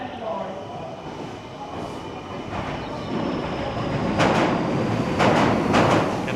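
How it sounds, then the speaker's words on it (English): A train passes through Tokyo, Japan with a steady rolling rumble that swells louder toward the end, with bright wheel and rail noise over a continuous track roar. "Cannot get over the fact how many different trains they have"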